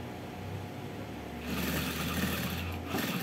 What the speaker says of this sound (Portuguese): Porque eu vou passar uma costura aqui pra mim.